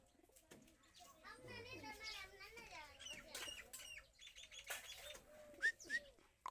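Pigeons coo beside their nest, their soft calls mixed with brief chirps while people talk throughout nearby.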